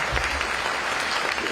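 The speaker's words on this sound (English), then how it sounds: "Please show me to give a round of applause for them." An audience at a 2024 prosperity summit applauds the panelists on stage, a dense, steady burst of clapping filling the hall for a brief moment.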